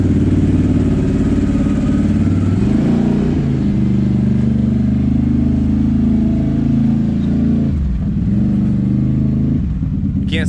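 A Renegade snowmobile engine fitted with a QSC Rev X primary clutch holds a loud, steady drone throughout, its pitch rising and falling with revs and briefly dipping near the end.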